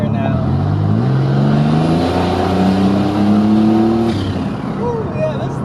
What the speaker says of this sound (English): we're going to do a rolling acceleration here now.